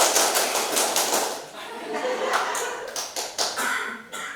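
Group of people clapping a rhythmic scout-style clap pattern in short bursts, with pauses between rounds and some voices and laughter mixed in.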